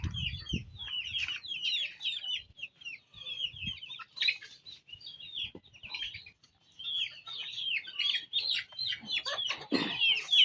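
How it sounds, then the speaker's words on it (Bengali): Red chicken chicks chirp and peep continuously in high, busy bursts indoors, with a few soft clucks and faint rustling underneath; no talking. "এটা হচ্ছে লাল মুরগির বাচ্চাগুলো যেটা আমি ঘরে রাখবো বলেছিলাম"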